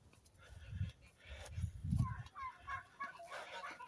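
Hens and a rooster in a backyard poultry run, several low clucks and honking calls close by, followed by softer chattering and someone speaking in French over them.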